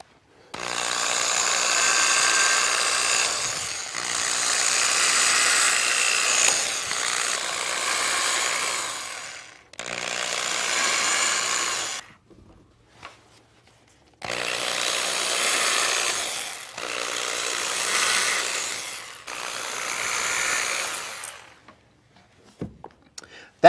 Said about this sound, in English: I'm going to drill holes all the way around the pumpkin